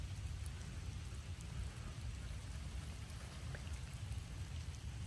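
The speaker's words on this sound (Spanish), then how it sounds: "Con este clima, la lluvia cayéndote encima," Steady rain falls outdoors in a soft, even hiss of drops that continues without a break, fairly quiet and with no voices.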